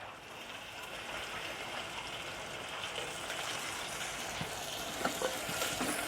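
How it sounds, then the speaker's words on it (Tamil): Chopped tomatoes and onions sauté together in a pan for a Tamil dried-fish curry, producing a soft steady sizzle with a few spoon taps and scrapes toward the end, moderately quiet with no speech. "தக்காளி நல்லா வதங்கட்டும்."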